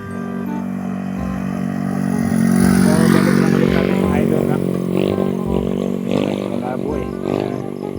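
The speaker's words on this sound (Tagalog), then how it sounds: "may dumaang kotse ayan" A car passes on a seaside road, a steady engine drone that swells toward the middle and then slowly fades, with faint wind in the background.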